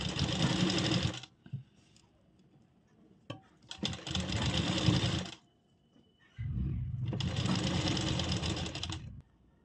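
Sewing machine stitching kurti fabric along the cut shape, running in three steady bursts separated by short pauses, close and clear with no talk.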